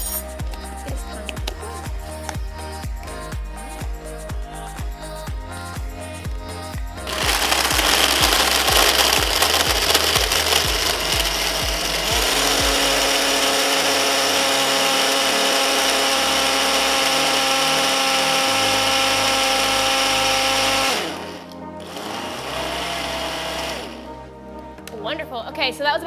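A blender whirs loud and steady for about ten seconds, mixing a peanut butter protein smoothie made with PB2 powdered peanut butter, starting and stopping abruptly, with the motor pitch settling as the contents smooth out.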